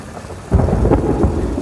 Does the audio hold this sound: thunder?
yes